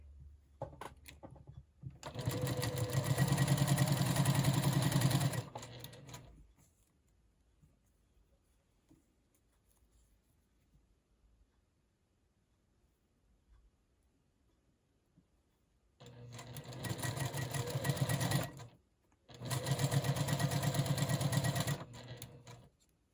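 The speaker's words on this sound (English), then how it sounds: "So we're just going to sew these pairs." Sewing machine stitching pairs of small one-inch fabric rectangles together for a mini quilt block, running in two bursts: one sustained run, a long quiet pause, then two closely spaced runs, steady and fairly close.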